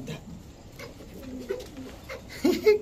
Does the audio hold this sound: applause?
no